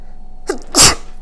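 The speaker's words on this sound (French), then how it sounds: "Excusez-moi, je vais éternuer." A single sharp, loud sneeze close to the microphone, preceded by a brief intake of breath, with quiet before and after.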